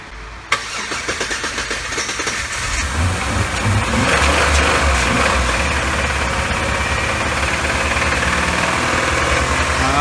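A Dodge Nitro with a new fuel injector cranks over with a few rhythmic starter pulses, catches and settles into a loud, steady, rough idle close to the microphone.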